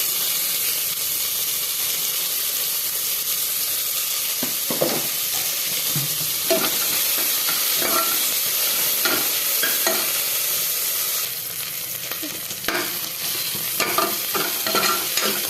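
Onions and fenugreek leaves fry in oil with a steady, close sizzle, broken by scattered scrapes and stirring knocks of a utensil against the pan; no voices are heard.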